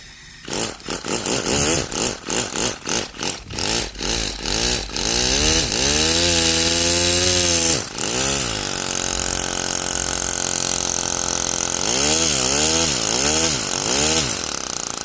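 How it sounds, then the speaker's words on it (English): A 3D-printed single-cylinder two-stroke air engine buzzes loudly, revving in sharp repeated bursts, then holding a steady high whine with rising and falling pitch swells, like a weed trimmer. "It sounds like one of those weed trimmer things."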